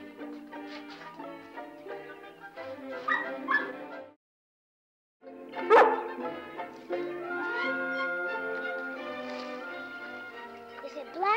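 A wet puppy whimpers and yips in thin, high cries, mixed in with people talking and background sound, broken by a short silent gap partway through.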